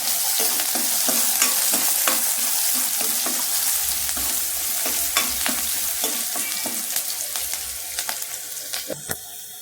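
Sliced onions sautéing in oil in a pan for a Tamil snake gourd kootu, with a steady loud sizzle and repeated scraping stirs throughout, no talking.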